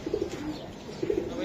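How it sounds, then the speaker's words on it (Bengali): A pigeon of a Giribaz racing line coos twice, in two short throaty bursts about a second apart, close and fairly clear over a quiet background. "কবুতরটা আমার খুব পছন্দ হয়েছে ভাই, সুন্দর কড়া কবুতর।"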